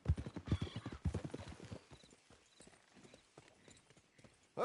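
Horse hooves trotting in Red Dead Redemption 2, a quick run of rhythmic clip-clops close up that fades to quieter, sparser steps, with a faint snort at the end.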